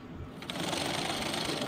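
A sewing machine stitches a shirt collar, a fast steady mechanical whir starting partway in, close and fairly quiet.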